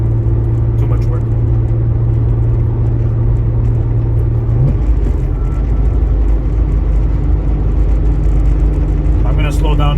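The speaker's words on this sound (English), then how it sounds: "I'm gonna slow down now. Shift to third and take off." A turbocharged VR6 car engine drones loudly and steadily, its tone shifting partway through as the driver changes into third gear, then roaring on under acceleration with continuous cabin rumble.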